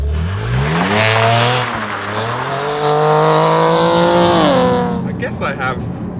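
BMW G80 M3 Competition, rear-wheel drive, loud and close from inside, its engine climbing in pitch through repeated rising revs with a gear change partway, then easing off near the end.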